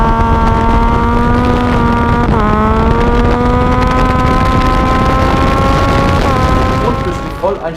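Triumph Daytona sport motorcycle with a 125 hp three-cylinder engine, loud and close, holding a steady harmonic drone with two brief pitch dips as it shifts or blips the throttle, then a rising rev at the end.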